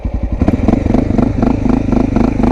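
A motorcycle pulls away from a stop as the clutch engages, its engine note close and loud, pulsing quickly and evenly as it picks up speed.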